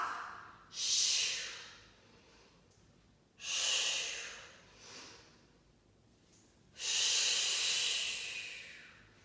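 Loud, close breaths drawn in and pushed out during a Pilates exercise, four long airy whooshes separated by quiet gaps, the final one the longest, with no talking.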